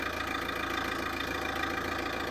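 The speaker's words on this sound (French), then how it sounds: "je parle fort parce qu'il y a le bruit du moteur" A Renault or PSA car with a DP0/AL4 automatic gearbox idles steadily during a gearbox oil change, heard from underneath as a continuous low engine hum with no speech.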